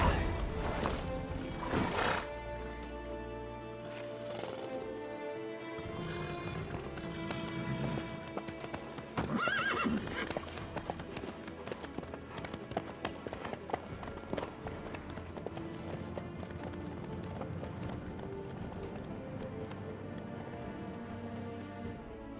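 Horse hooves clip-clop at a steady running pace in The Witcher 3 video game, with an occasional whinny, all set under a continuous bed of orchestral game music.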